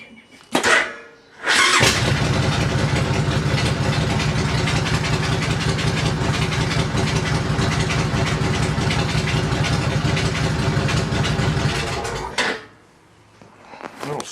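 A Suzuki C90 motorcycle engine cranks briefly, then fires and settles into a steady, loud idle for about ten seconds before being shut off, with no voices over it.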